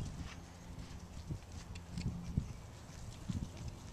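Horse hooves clip-clop steadily on an arena surface during a schooling ride, soft and fairly distant under a constant background hiss, with a foal somewhere nearby.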